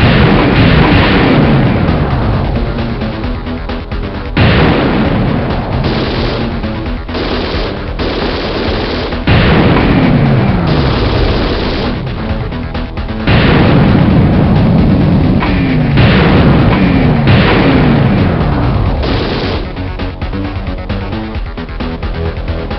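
Continuous loud video game explosions and heavy gunfire as a hydrodynamic generator and power station are destroyed in the Hellbender Iowah level, with dense repeated blasts and booms throughout.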